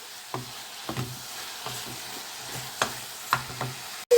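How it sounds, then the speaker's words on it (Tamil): Tomato, onion, green chili and garlic fry together for a tomato chutney, with a soft sizzle under a series of clacking spoon strokes against the pan at an uneven rhythm. A sharp bump sounds at the very end. "தக்காளி, வெங்காயம், பச்சை மிளகா, பூண்டு இது எல்லாமே சேர்ந்து நல்லா வதங்கணும்."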